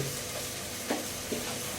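Spice paste for beef rezala fries in oil, a close, steady sizzling hiss with two brief stirring knocks.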